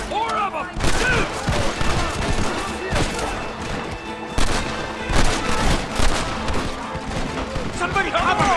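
Gunfire in the Western video game Red Dead Redemption, with dense overlapping rifle and pistol shots in continuous loud volleys and shouting voices mixed in.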